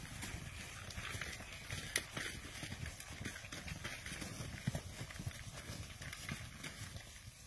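Red Poll cattle moving through a gate onto fresh grass in Cambridgeshire brook meadows, with soft, irregular footfalls, rustling and shuffling over a steady outdoor background, fairly close but quiet.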